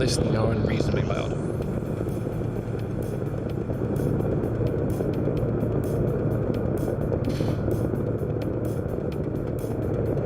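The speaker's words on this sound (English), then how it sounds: "the engines on this thing are unreasonably loud" Loud spaceship engines in the video game Star Citizen give a steady, dense roaring rumble that runs unbroken throughout, with faint clicks on top.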